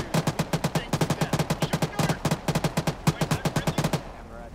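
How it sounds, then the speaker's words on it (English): Sustained gunfire in the video game ARMA as a shooter fires out of a building window, with steady, evenly spaced loud shots in quick rhythmic bursts separated by short breaks, close and dominant. "find the window and start shooting out it"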